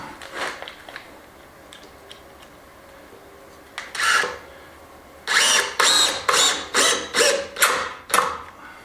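Screws are tightened by hand into wood during an old courtyard renovation, giving a series of rasping ratchet-like twists, scattered at first and then a steady run of about eight close, loud strokes.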